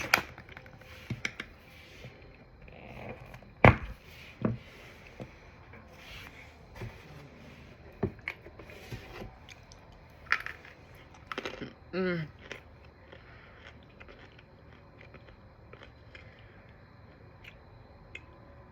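White Mountain chalk clay bitten and crunched up close, with sharp snapping crunches followed by softer chewing and rubbing sounds, irregular and fairly quiet.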